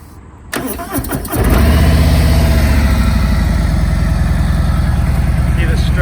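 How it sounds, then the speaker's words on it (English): A 2020 Harley-Davidson Road Glide Special touring motorcycle in Billiard Red is started up nearby. A short cranking whir catches into a loud, deep, steady idle rumble that continues to the end. "let's go ahead and start it so you guys can hear it run"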